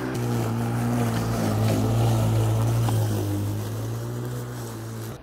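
An Ozito 36V cordless lawn mower runs on a lawn, a steady close electric motor hum with a low droning tone that holds level throughout, and a person talks briefly over it.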